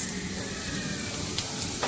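Cumin seeds hit hot oil in a kadai while dal is being tempered in a village kitchen, making a brief, close, steady sizzling hiss with a couple of small spits.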